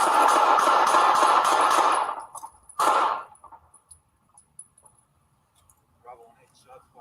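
A rapid burst of police gunfire at close range, loud shots fired in quick succession for about two seconds, then one more sharp blast, followed by quieter scattered noises outdoors.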